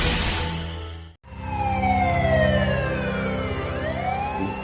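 An ambulance siren wails with rising and falling electronic tones, cutting out for a moment and then sweeping on steadily and fairly close, alone with no talk.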